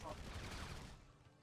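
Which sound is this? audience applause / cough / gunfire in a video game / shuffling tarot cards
gunfire in a video game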